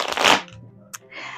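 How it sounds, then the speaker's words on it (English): Tarot cards are shuffled close up, a brief papery riffle burst followed by a soft tap and a second, lighter rustle of cards. "I will shuffle"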